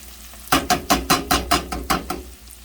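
Tomato paste being stirred in a hot pot for braised short ribs makes a rhythmic series of about eight scraping, squelching strokes over a faint sizzle, close and even-paced.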